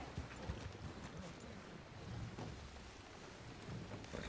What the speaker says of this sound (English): So many horses.